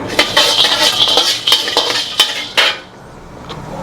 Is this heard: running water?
no